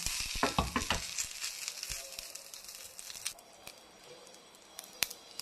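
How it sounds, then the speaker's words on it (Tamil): Mustard seeds and curry leaves crackle and sizzle in hot oil for a tempering, with a dense burst of spitting pops at first that thins to a steady, quieter fizz and a few late sharp pops. "இந்த கடுகு போட்டு கருவேப்பிலை போட்டுக்கோங்க"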